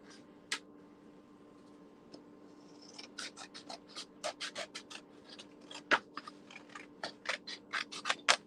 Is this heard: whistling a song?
no